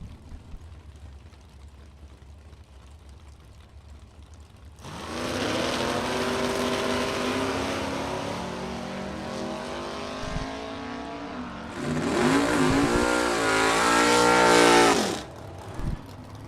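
A 1965 Malibu and a 1984 Chevy Monte Carlo launch at a drag strip, their engines bursting from a quiet idle into a loud, rising roar. A second surge of revving follows before the sound cuts off abruptly.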